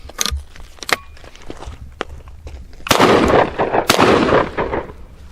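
Outdoors, a nickel-plated Citadel Boss double barrel shotgun fires two loud, sharp blasts a second apart, each followed by a rolling echo, with faint handling clicks before them.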